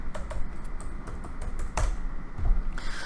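Rapid typing on a computer keyboard, a steady run of close, crisp key clicks with a few heavier strokes, entering a search for VR headsets.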